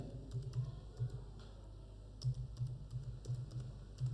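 Fingers tap out a sheet name on a computer keyboard in a spreadsheet program, giving scattered light keystrokes in short clusters over a quiet hum.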